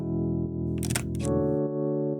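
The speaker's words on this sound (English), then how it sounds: "you can release the shutter by pressing the button here on the cable" A Leica M camera shutter fired by a cable release gives a brief mechanical click near the middle, heard alone over a steady low electronic hum.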